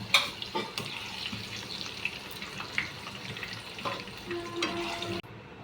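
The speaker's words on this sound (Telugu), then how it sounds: "కొద్దిగా గోల్డెన్ కలర్ వచ్చిన వరకు కొద్దిగా అలా ఫ్రై చేసుకొని పెడదాం" Potatoes fry in oil toward golden for aloo kurma, a steady soft sizzle with occasional stirring clinks and a brief high tone near the end, no voices.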